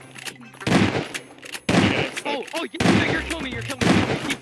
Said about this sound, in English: Shoot where I'm shooting.